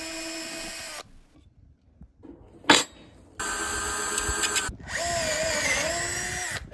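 A Litheli U4 4V compact cordless drill drives fasteners in light-duty work, its high whining motor running in bursts of a second or two, separated by pauses, with a brief clack between runs.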